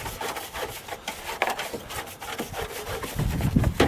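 A stiff coil cleaning brush, an AC mastic brush, scrubs a surface on a 1997 Chevy Astro cargo van with close, rough, rasping back-and-forth strokes in an irregular rhythm, loud and continuous throughout.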